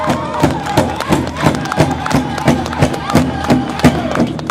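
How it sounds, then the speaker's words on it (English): Crowd cheering and applause for grass dancers and fancy dancers at a First Nations Day powwow, with a steady drum-like thumping beat running underneath the noisy, sustained crowd. "give your grass dancers and fancy dancers a round of applause"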